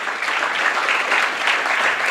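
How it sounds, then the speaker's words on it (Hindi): Audience clapping for two guests at a school event, a steady dense wash of many hands held evenly throughout with no speech over it. "दोनों गेस्ट हैं, इनके लिए तालियां बजाएं"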